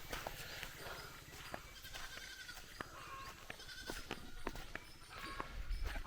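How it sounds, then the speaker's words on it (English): Goats wandering onto a road in a rural spot on a Philippine island, with scattered short bleats over a steady outdoor background and occasional sharp clicks and knocks nearby. "The goats have now made it out onto the road."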